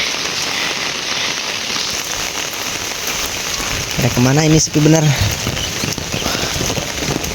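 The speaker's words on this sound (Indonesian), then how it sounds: "suasana hujan di kampung teman-teman" Steady rain falls over a remote, fog-covered village, a constant near hiss throughout, with someone speaking briefly midway over it.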